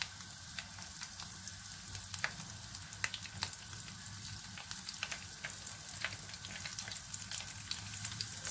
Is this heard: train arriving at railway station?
no